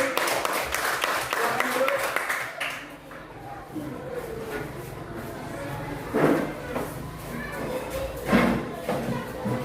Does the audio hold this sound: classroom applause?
yes